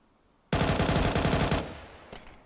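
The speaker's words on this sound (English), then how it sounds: "Warning shots from SDY." Automatic gunfire in Counter-Strike, one sustained burst of about a second of rapid loud shots, then a short fading tail with a few faint distant pops.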